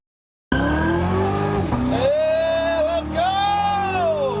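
A high-end car is driven at breakneck speed on a road in Texas during a dangerous joyride, with a loud, sustained tire squeal that rises and wavers in pitch over a roaring engine and close, harsh road noise.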